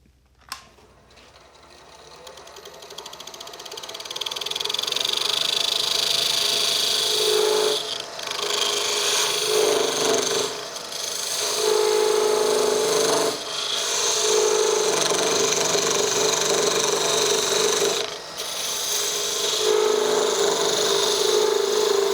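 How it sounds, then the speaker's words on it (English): A parting tool cuts into wood spinning on a lathe for a mushroom turning, making a loud, sustained scraping and rasping whine that drops away briefly a few times as the cut pauses and then resumes. "my parting tool goes in, and I go in with my parting tool a little bit pointing upwards"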